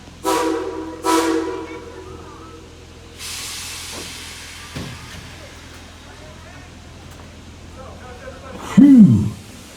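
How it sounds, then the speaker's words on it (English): Tweetsie Railroad #190, a coal-fired steam train, gives two short whistle blasts, then a long burst of hissing steam and faint rumbling rail noise, ending with a louder whistle-like cry near the end. "Casey Jones, let's get the train back to town, please."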